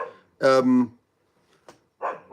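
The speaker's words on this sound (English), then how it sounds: "these dogs are going to shut up" Dogs bark in a short burst of loud, harmonic yelps up close, then fall quiet before another bark starts at the end, with a brief click between.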